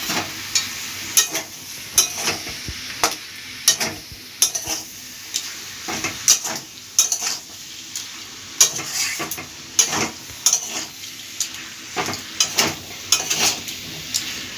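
Shrimp frying with potato, eggplant and pointed gourd in a pan, with a continuous sizzle and regular scraping stirs roughly every second, clattering against the pan. No one speaks.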